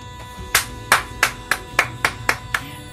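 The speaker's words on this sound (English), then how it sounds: "I'd like to give these two a round of applause" A single person claps hands several times in a steady, evenly spaced rhythm, each clap crisp and fairly close, with no voices over it.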